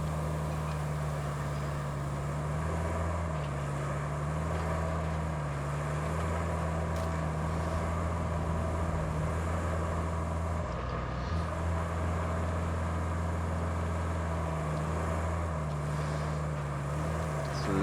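A heavy truck engine drones steadily in the RoadCraft video game as it revs and shifts up through the gears, its low rumble stepping up and dipping in pitch at each change.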